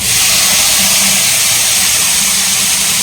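Tomatoes going into a hot pan for potato capsicum gravy, a loud, steady, hissing sizzle throughout with no voices.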